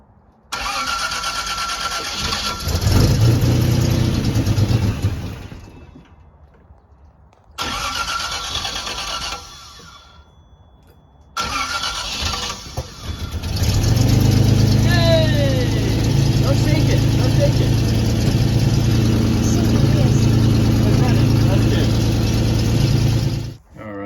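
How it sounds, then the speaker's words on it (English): A Lancia Flaminia engine cranks on a WOSP starter motor in repeated loud bursts separated by pauses, then catches and runs steadily at a close idle. "Let's fire it up and see if she'll fire up."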